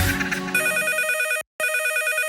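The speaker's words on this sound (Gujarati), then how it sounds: "ફોન આવ્યો કાકા" A telephone rings loudly on a radio comedy show, a rapid electronic trill in two bursts separated by a brief silence, emerging from the end of a musical jingle.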